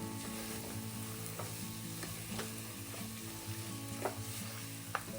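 Beaten egg stir-fries in a hot pan for egg rice, giving a continuous crackling sizzle with a few sharp scrapes and taps of a spatula, close and fairly quiet, with no speech.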